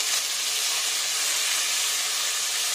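Onions, tomatoes and slit green chilies sautéing in a pan for egg biryani, giving a steady, even sizzle and hiss that carries on alone throughout.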